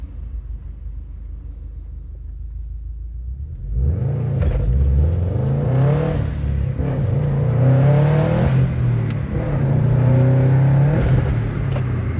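A modified Subaru WRX STI idles with a low rumble, then its engine rises and revs with turbo whooshes and wastegate flutter, loud and close, no talking.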